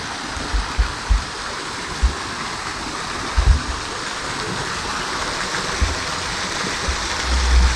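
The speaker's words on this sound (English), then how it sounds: "The water falls from a rocky cliff 10 feet above with a cave behind the waterfall" Steady broadband rush of water falling about ten feet from a rocky cliff into a creek in a Michigan Upper Peninsula forest, with a cave behind the falls; constant and close, with a few soft low thumps.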